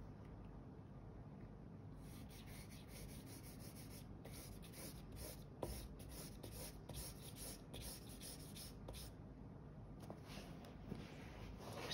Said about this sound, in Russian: Мне хочется взять 3 карандаша сразу.